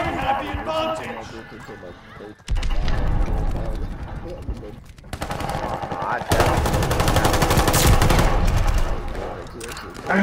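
Death Machine gunfire in Call of Duty: Vanguard, loud rapid sustained bursts of automatic fire that start and stop several times amid chaotic game noise and a talking voice.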